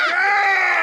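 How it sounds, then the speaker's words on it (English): People screaming together, a loud sustained high-pitched shriek that swells in at once and holds steady for under a second. "Why is everybody screaming?"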